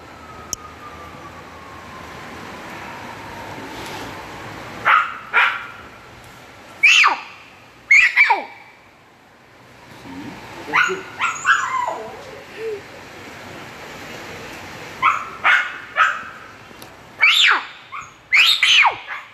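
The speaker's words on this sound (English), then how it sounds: "The dog will bark." A dog in the video game Numberfriends 2 gives a string of short, sharp yips and barks in uneven bursts, with some whimpering notes among them, over a quiet game backdrop.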